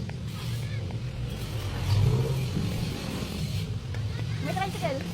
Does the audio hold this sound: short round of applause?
no